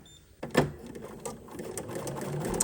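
A sewing machine stitches a fabric potholder along a marked line with the presser foot lowered, giving short whirring bursts of needle action up close.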